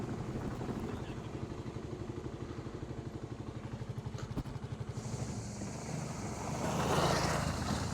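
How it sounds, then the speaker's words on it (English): Dual sport motorcycles, including a Yamaha Tenere 700 and a BMW, ride past on a rural Virginia road, their engines a pulsing drone under continuous wind rumble that swells and shifts as they go by. "There was that Tenere 700 that passed."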